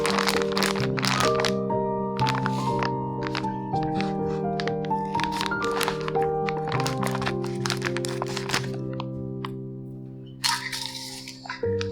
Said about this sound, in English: And then I add to it a kilo of whole spelt flour.